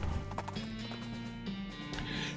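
Horse hooves clip-clop in the video game West of Loathing, a quick steady rhythm of close hoofbeats over background game music, with no talking.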